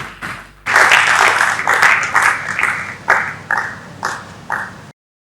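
An audience claps to welcome a speaker at an agriculture event, starting abruptly after a quiet moment and continuing loud and dense, then thinning into several separate bursts before stopping suddenly.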